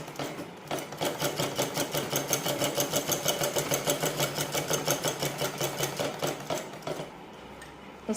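A sewing machine stitches cancan net onto a petticoat at slow speed, producing a steady, rapid run of mechanical clatter that carries on for about six seconds and then stops.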